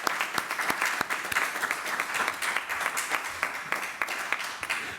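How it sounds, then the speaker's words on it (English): An audience at a children's library dedication claps steadily for several seconds, a dense, even patter of many hands with a few sharper individual claps. "Please give them a round of applause."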